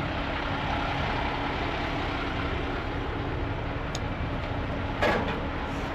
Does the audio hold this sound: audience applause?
no